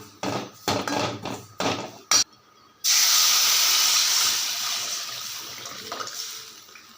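A few short clatters, then tamarind water hits a hot pan for rasam with a loud, sudden hiss that slowly fades into a steady, softer sizzle.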